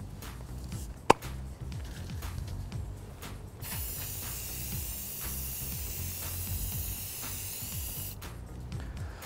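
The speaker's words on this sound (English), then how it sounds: "Simply take your spray, give it a good shake, and then apply it in even strokes from side to side." A spray can coats a print with one continuous hiss lasting several seconds, preceded by light handling clicks and a sharp tap, then cutting off cleanly into quiet.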